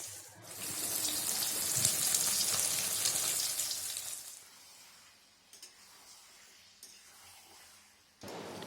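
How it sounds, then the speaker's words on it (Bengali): Fish sizzling loudly in a hot pan for a Bengali New Year family meal, a dense crackling hiss for about four seconds that then drops to a faint simmer with a few soft clinks before swelling again at the end. "মাছ ভাজাও শুরু হয়ে গেছে।"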